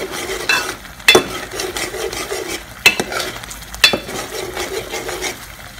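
Spoon stirring a pan of buttermilk curry over raised heat, with a soft continuous sizzle and three sharp clinks against the pan rim.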